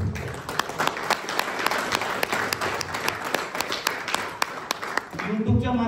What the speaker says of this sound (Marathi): सगळेच टाळ्या वाजवा.